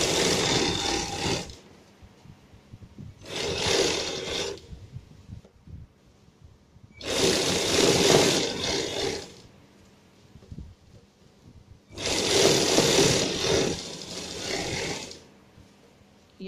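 Sewing machine stitching a coat collar in four loud, close bursts of rapid whirring, each a second or two long, separated by short quiet pauses.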